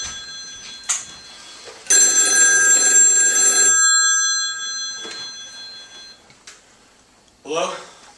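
An old-style telephone bell rings loudly in a staged verse-and-song play, one long ring with a shorter burst later, amid thumps and a voice at the end.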